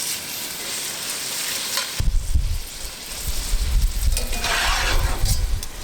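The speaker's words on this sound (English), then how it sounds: "and then we'll get our bacon in." Bacon lardons drop into a hot oiled frying pan and sizzle loudly, a burst of crackling frying that swells and holds steady, with occasional stirring scrapes.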